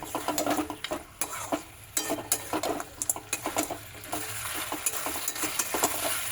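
A ground cumin and coriander spice paste fries in a pan, giving steady sizzling broken by repeated scraping stir strokes close up, with no talk over it.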